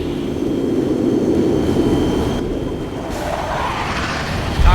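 Chinese MiG jet fighters roar past in the real-time strategy game Command & Conquer: Generals. The engine noise is a loud, steady, dense wash that dips slightly and surges again at the end.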